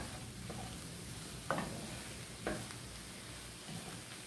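Tomatoes frying in a pan are stirred over a soft, steady sizzle, with two brief scraping knocks standing out near the middle; quiet and fairly close, with no talking.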